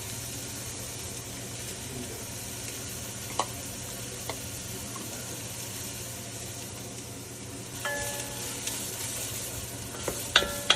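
Chopped celery, green pepper and onion sizzle in a pan for American chop suey, a steady moderate hiss with scattered light clicks of a utensil that become more frequent toward the end.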